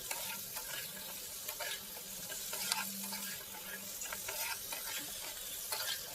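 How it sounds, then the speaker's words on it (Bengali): Young jackfruit curry with fat being stirred in a pan, soft scraping strokes repeating over a low, quiet sizzle, close by and unaccompanied by talk. "এইভাবে দেখো নেড়ে চেড়ে নিচ্ছি"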